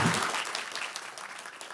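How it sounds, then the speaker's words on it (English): An audience applauds at a city council meeting, with dense, even clapping that fills the room and fades slightly toward the end, with no voices over it. "folks, I know you want to applaud"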